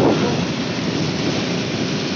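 Rain falls on a beach at Tambakrejo in Blitar, East Java, as a loud, dense, steady hiss with a low rumble beneath; no voices.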